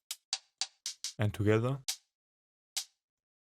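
Three layered hi-hat samples for a lo-fi drum track play one after another, each a short crisp tick, then sound together, with a spoken voice briefly talking in the middle.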